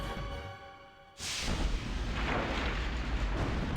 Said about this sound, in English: Oh no, it's exploding.